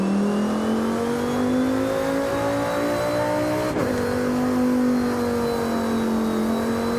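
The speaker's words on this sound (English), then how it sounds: "Apparently, if I brake, that high-pitched whine will go away." Loud car engine in Forza Horizon 5, a continuous droning roar with a prominent high-pitched whine riding over it, pitch sagging slightly midway then climbing again, no voices.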